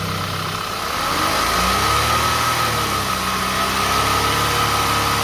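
An Audi A4 B8 2.0 TFSI engine with 290,000 km idles steadily and loudly up close, with a slight rise in revs partway through and a constant high whine over the rumble.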